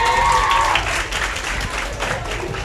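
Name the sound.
applause for a teacher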